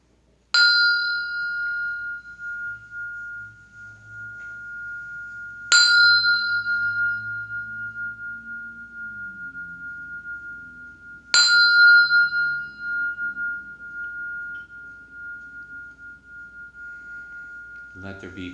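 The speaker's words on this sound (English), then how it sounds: "So with that, I'll sound the bell." A meditation bell struck three times at even intervals of about five seconds, each strike ringing clearly and sustaining a long, steady hum before fading, with a faint voice murmuring underneath near the end.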